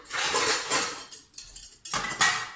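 A pot lid is pulled from a dishwasher among other clean dishes, making bright clattering and rattling of metal and crockery in several short bursts close by.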